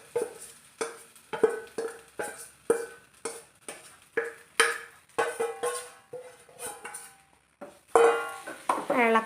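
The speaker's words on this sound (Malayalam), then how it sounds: "ഇനി നന്നായി ഇളക്കണം" A spoon stirs mustard seeds and mango in a cooking pan with a steady series of metallic scrapes and clinks, about one per second, close and fairly loud, with a faint sizzle underneath.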